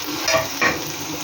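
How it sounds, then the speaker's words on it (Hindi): Garlic sizzling as it fries in a pan for beef nihari, a steady hiss with two short crackling bursts close by. There are no voices. "अब इसमें लहसुन जाएगा, लहसुन डाला मैंने"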